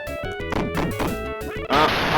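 A racing video game car crashes on the Suzuka circuit: electronic engine tones and game music break into a burst of clattering impacts, then a loud, sustained noisy explosion to finish.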